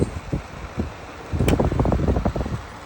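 A dehumidifier fan blows with a steady airy whoosh that grows noticeably stronger just after a click of a button partway through.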